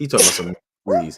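A single sharp human sneeze in a room, quickly followed by a voice that speaks briefly.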